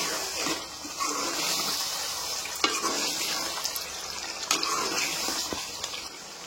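Chicken curry with chicken masala, Telangana style, stirred in a pan: a steady, fairly loud sizzle and hiss with a few sharper scraping knocks of the spoon, no voices.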